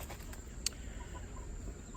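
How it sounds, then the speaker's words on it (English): A rooster in a garden, with faint low clucks and soft farmyard noise at a moderate distance, plus one sharp tick. No talk is heard. "this rooster has got to go"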